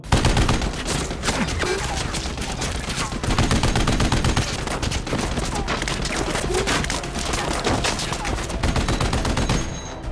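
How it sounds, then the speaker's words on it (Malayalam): Sustained, loud gunfire from the movie Sisu, with dense bursts of shots and machine-gun fire running continuously through the whole stretch. "ഭാഗ്യത്തിന് അറ്റാമി ചെറിയ പരിക്കുകളോടെ കാര്യമായി വെടിയേൽക്കാതെ രക്ഷപ്പെടുന്നു."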